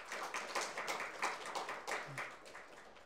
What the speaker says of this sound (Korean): 박수 감사해 주세요.